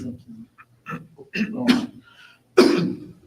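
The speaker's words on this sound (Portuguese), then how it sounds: "Essa tosse está brava também, turma." A harsh cough at a football press conference bursts out after some throaty clearing and low vocal sounds, close and fairly loud.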